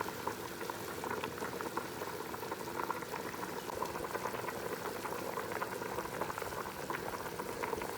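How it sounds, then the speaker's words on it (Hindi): A pot of degi mutton korma reaches its first boil, bubbling and gurgling in a dense, steady churn of popping liquid, fairly quiet and close with no voices over it. "ये हमारा कौरमे को पहला उबाल आ गया।"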